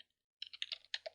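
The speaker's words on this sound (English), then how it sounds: "Now let's execute the script by typing in bash" Keys clatter on a computer keyboard as a bash command is typed into a Linux terminal: a quick, uneven run of close, crisp clicks after a short silence, with no talking.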